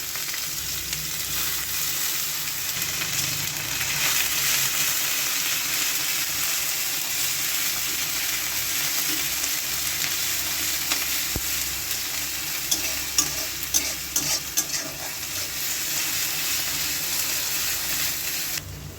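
Onion paste and green chili paste fry in a pan for a potato-brinjal curry with salted hilsa, a loud, continuous close sizzle with occasional stirring scrapes and clicks throughout.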